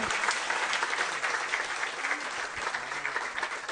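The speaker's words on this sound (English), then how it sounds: "A big round of applause to the new logo and motto." Audience applause at an office inauguration and logo and motto release: steady, dense clapping from a crowd, held at an even level throughout.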